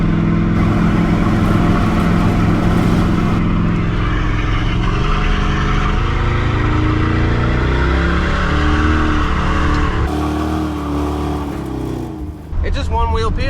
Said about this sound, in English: We got this good sounding engine,